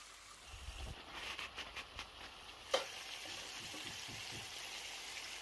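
Pumpkin cooking in a covered pan gives off a quiet, steady sizzle and light crackle, with a few soft clinks and bubbling pops scattered through it and no talking.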